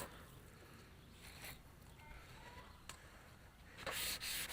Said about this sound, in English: Already out here sanding away on trying to cover up the grinder marks. Wet sanding